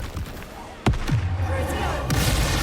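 Confringo blasting spell explosions in the video game Hogwarts Legacy: two sharp blasts with whooshing tails over a continuous game soundscape, with faint voices in the background.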